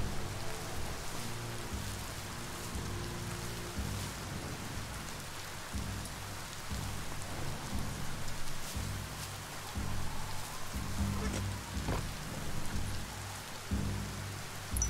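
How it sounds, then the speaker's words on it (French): Steady rain in the video game Biomutant patters across surfaces in a dense, continuous hiss, with low rumbling underneath and a few brief tones near the end. "Ah, il pleut."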